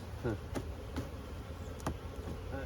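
Bees buzz close by in a steady hum, with a few brief clicks and handling noises over the drone.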